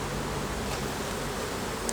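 Honeybees at an open brood frame of a hive make a dense, steady buzz close up, continuous and unbroken with no voices.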